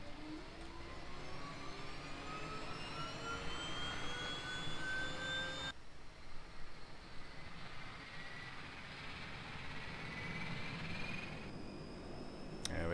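Turboprop engine 1 of an E-2C Hawkeye spooling up in FSX: a loud continuous roar with rising whine tones climbing steadily, then a shift to a steadier, broader running drone.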